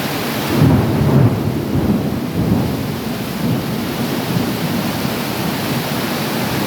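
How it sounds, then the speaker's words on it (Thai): Heavy rain from a hot-season storm pours in a dense, steady roar while a low rumble of thunder rolls through early on, in Kham Muang, Kalasin province, Thailand. "หนักเลยพี่น้องฝนตกหนักครับ"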